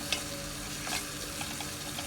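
A spoon stirs fish pickle masala in a pan over a soft steady sizzle, with a few scraping strokes close by and no talk.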